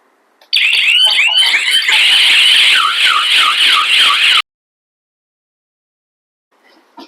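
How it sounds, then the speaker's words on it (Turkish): A wireless SOS alarm blares loudly for about four seconds, a harsh, rapidly warbling electronic siren starting abruptly and cutting off just as suddenly, leaving near silence with a faint sound at the end. "ürünün kablosuz sistemi devreye girer ve yüksek sesle alarm verir"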